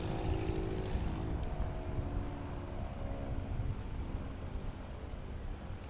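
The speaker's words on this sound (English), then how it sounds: "Pat McIntyre in the Badlands Traveler, flaps down, holding it off. Not going to be enough" STOL plane coming in to land with flaps down at a practice event in Sulphur Springs, Texas; a rough propeller drone and engine rumble roll steadily, fairly distant and softening slightly.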